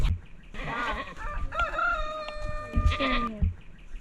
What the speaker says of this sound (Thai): แพะร้องอ่ะ